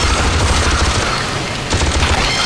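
A weapon in the video game AVP2: Primal Hunt fires a loud, rapid burst of repeated shots that continues without a break, pausing only briefly partway through.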